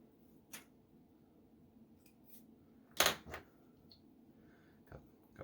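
Paracord sliced with an X-Acto knife: a sharp, bright snip stands out near the middle with a softer follow-up cut, plus a few faint ticks and handling clicks over a quiet room background.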